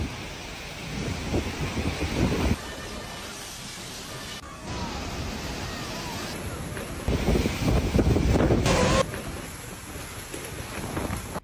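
Typhoon Bualoi in Vietnam blows storm wind and rough waves in a loud, rushing roar with abrupt jumps in level, buffeting close to the microphone throughout.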